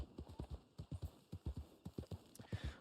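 Hooves clip-clop at a steady trot, close and distinct, as a horse carries its rider through cactus-covered Mexican terrain in Red Dead Online. Faint background sounds sit under the rhythmic hoofbeats.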